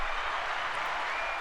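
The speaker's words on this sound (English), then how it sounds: "Got to give him a round of applause." A dense round of applause from a small group fills the moment, steady and loud throughout with no clear gaps.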